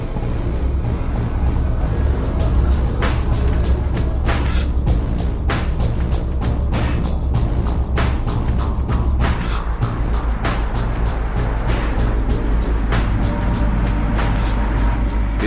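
A refrigerated Volvo lorry loaded with margarine and flour drives into a road tunnel at around 60 km/h, a loud, steady low engine and road rumble with repeated sharp clanks and whooshes echoing.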